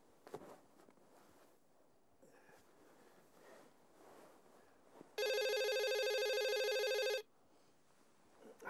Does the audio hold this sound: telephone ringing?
yes